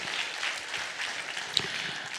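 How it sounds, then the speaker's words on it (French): Audience at a conference panel on the future of work applauding a guest, a short burst of moderate clapping filling the space, with no voices over it. "On peut l'applaudir."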